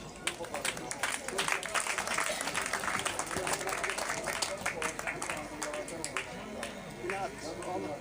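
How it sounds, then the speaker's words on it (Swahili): Audience applause at a graduation ceremony in Garissa as certificates are awarded, with dense, steady clapping from a crowd filling the space for several seconds and a background murmur of voices. "Makofi kwake kwa Sandia."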